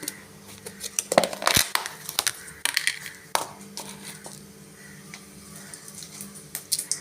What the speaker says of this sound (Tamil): கடுகு பொரிஞ்சதும் ஜீரகம் கொஞ்சம் போட்டுக்கலாம்.